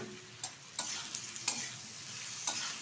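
Fried prawns stirred into a simmering ivy gourd and potato curry, a steady soft sizzle broken by several sharp scraping clicks of the spoon against the pan, fairly quiet and without voices.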